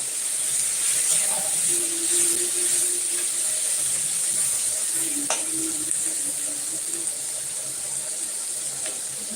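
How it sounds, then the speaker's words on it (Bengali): Onions frying in a pan for a light chicken curry give a loud, continuous, close sizzle and hiss that holds steady throughout, with faint scraping stirs now and then. "এখন পেঁয়াজটা আমি ভেজে নিচ্ছি ভালো করে"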